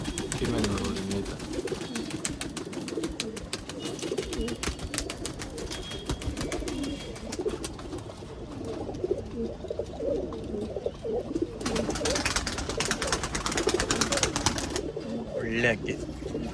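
Old-line pigeons coo repeatedly at close range, soft throaty calls layered over a busy background with occasional bursts of noise and voices talking nearby.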